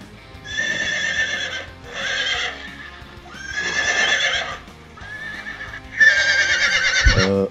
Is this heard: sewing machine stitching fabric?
no